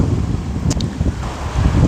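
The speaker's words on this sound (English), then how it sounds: "The wind's picked up a bit." Wind gusts steadily on an open hill, roaring and buffeting loudly against the microphone throughout.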